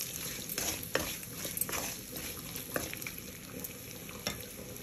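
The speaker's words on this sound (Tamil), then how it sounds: "முட்டையோட வெள்ளைக்கருவை ஃபஸ்ட்டு போட்டு நல்லா வதக்கி விடுங்க" Egg whites and masala sautéing in a pan for egg sukka fry give a steady sizzle, with a spoon stirring and scraping at intervals nearby.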